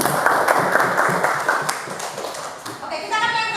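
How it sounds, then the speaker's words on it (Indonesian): A school class in an Indonesian civics lesson claps hands together in quick, busy rounds, then the clapping fades as voices rise near the end. "silakan tepuk tangan dulu"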